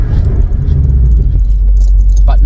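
Toyota Altezza slowing under medium-hard braking from 80 km/h, the low engine and road rumble dropping in pitch partway through, with faint rattles and a voice over the cabin noise.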